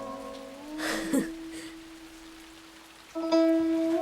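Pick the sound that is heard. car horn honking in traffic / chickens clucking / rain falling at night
rain falling at night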